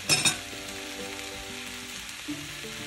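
Chili chicken with capsicum and onion cooking in sauce in a pan, a steady low sizzle with a brief louder clatter of stirring at the start and a faint knock later, no talking.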